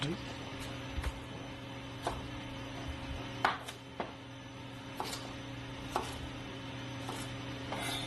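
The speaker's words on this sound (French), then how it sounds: "Ensuite, nous allons tailler en mirepoix nos oignons," Onions and carrots being chopped into mirepoix with a knife on a board: sparse, sharp single cuts at irregular intervals over a steady kitchen hum, fairly faint.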